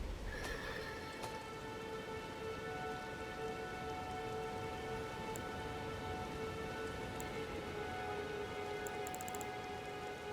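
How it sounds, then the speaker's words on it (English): Steady rain patters down across an Elden Ring landscape, a dense even hiss that holds throughout, with a few faint tonal hums and scattered ticks beneath it. "Cool, it's raining."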